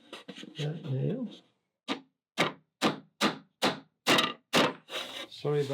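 Nail driven into wood in a woodworking shop, a run of seven sharp, evenly spaced knocks ringing out one after another, with someone talking just before and after.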